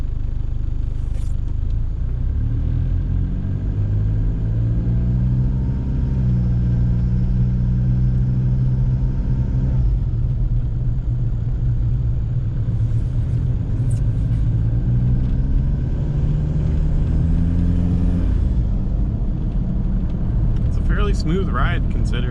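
A lifted 1994 Mitsubishi Delica 4WD diesel van on a test drive gives a continuous low engine drone and road rumble heard from inside, with shifting engine tones and a brief rattle near the end.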